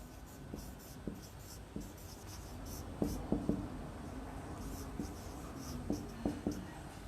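Pen handwriting accounting entries on paper, a soft steady scratching punctuated by repeated light taps and strokes, close and quiet with no talk.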